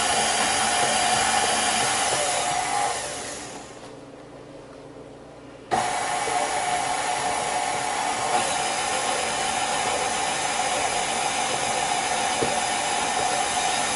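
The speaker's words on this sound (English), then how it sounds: "Your mixer's quieter than my Pro. I have the Pro version, and mine's a little bit noisier." An electric stand mixer mixes pumpkin roll batter with flour, baking soda and cinnamon, giving a steady loud whirring drone that drops away for a couple of seconds and then kicks back in at full level, with no talk.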